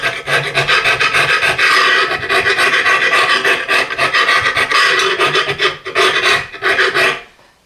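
Harsh, continuous rasping and scraping as a carbide-insert stick works around the inside of a wood stove, close and loud, with a quick rhythmic back-and-forth stroke that stops near the end.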